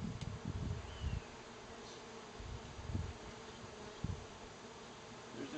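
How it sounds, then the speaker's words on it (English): Faint honey bee buzzing hums steadily in the background of a hive during honey harvesting, with a few soft low thumps and handling bumps scattered through. "There's a few bees in there, but not very many."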